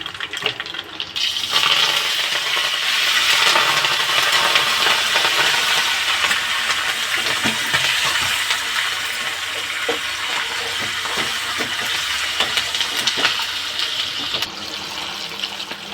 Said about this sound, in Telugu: ఇదిగోండి తాలింపు చేసుకుంటున్నాను.